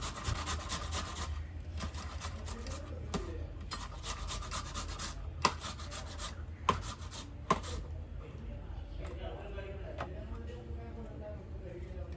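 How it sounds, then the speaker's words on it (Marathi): Cucumber being grated by hand in a home kitchen, a continuous rasping scrape with a few sharp knocks midway, quiet and close, with faint background voices. "आपली काकडी किसून झालेली आहे"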